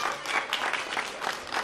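Audience applause at a live children's science show, a short, light patter of clapping from the crowd, fairly quiet and brief with a few louder claps standing out.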